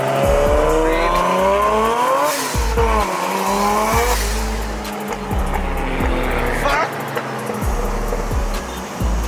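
A Toyota GT86 with a swapped-in 1JZ engine driven hard on a shakedown run, its loud engine rising and dropping through repeated revs and gear changes, with tire squeal and a voice partly under the noise.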